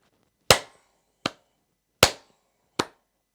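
Four sharp hand claps at an even pace, alternating loud and soft, each one crisp and quickly decaying into silence.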